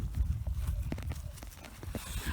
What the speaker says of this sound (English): Run over to see the horses.